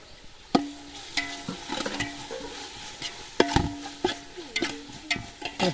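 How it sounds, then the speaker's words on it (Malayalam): Chicken curry being stirred in a pan at home, a spoon scraping and clacking against the metal in irregular strokes over a steady low sizzle of frying, close and fairly loud. "നമ്മളെ മിനിഹക്കുട്ടി ഇളക്കിക്കൊണ്ടിരിക്കുന്നുണ്ട്"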